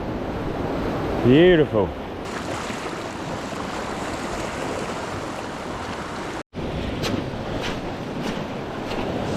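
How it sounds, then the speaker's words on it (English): Ocean swell and surf at a coastal fishing spot, a loud, continuous wash of rushing waves with heavy wind buffeting, a brief voice calling out near the start. "Swell is proper pumping this morning, it's lovely."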